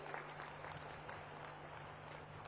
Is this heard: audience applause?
yes